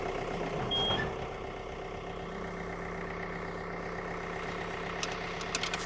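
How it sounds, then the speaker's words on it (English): Tractor engine idling steadily with a hydrostatic transmission, a low rumbling drone with a faint whine throughout, plus a brief louder burst near the start and a few light clicks near the end. "we're going to start the tractor up."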